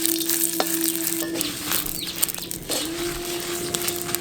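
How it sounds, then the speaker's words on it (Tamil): Dried red chillies and coriander seeds dry-roasting in a pan give a soft continuous sizzle and rustle, with faint scraping from stirring, steady and close throughout. "இப்போ அரைக்க வேண்டிய மசாலாக்கள் எல்லாத்தையும் வறுக்க ஆரம்பிச்சிடலாம்."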